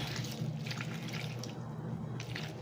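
Water pours steadily into a cooking pot in a home kitchen during a Filipino stew's preparation, a continuous close splashing and trickling stream with no talk.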